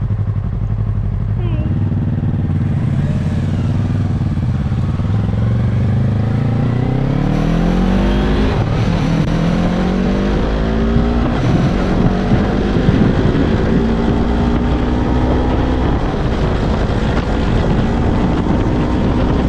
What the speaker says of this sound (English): So accelerate briskly this time and just upshift when you want to upshift.